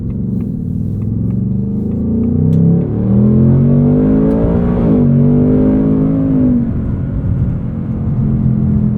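A Ford Mustang Dark Horse with a 10-speed automatic revs under way, its close, loud engine note climbing through a shift, briefly dipping, then droning steadily at cruise.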